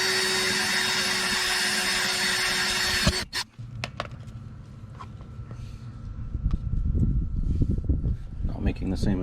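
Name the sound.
power drill drilling a hole in a car's front bumper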